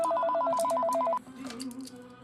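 A telephone rings with a rapid alternating electronic trill for about a second, then cuts off, leaving faint room noise and light movement sounds.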